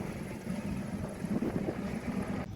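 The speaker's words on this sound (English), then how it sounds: "The Provincial Commissioner has set off in a helicopter now to take an overview sight of the city." Police helicopter lifting off over Durban, a steady low rotor drone with wind buffeting, moderately distant and fairly faint, with no voices.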